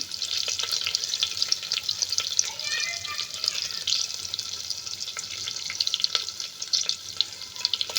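Half an onion with curry leaves sizzles and fries steadily in a pan for ridge gourd sambar, with a continuous bright crackle and occasional stirring.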